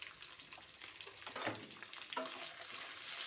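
Capsicum with salt and turmeric frying in oil, a soft, continuous sizzle with occasional stirring scrapes, fairly quiet and alone.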